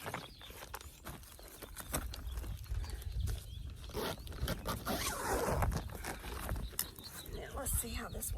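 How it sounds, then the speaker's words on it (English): A jacket zipper is pulled down outdoors on a chilly, windy day, its rasping clicks scattered in short bursts amid rustling and wind noise. "So I'm going to zip this down on both sides."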